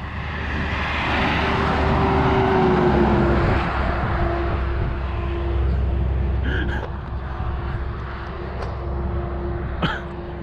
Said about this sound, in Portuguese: Olha o carro aí, doido.